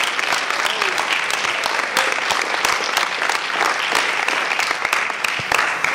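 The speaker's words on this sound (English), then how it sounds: "Come on, keep clapping." A live audience claps steadily throughout, a dense, continuous patter of many hands in a room, with some voices faintly mixed in.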